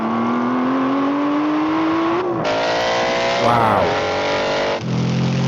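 An Aston Martin Vantage GT8 and a Vantage GT4 accelerate hard side by side in a drag race, engines climbing steadily in pitch through loud gear changes, with one brief exclamation from a person.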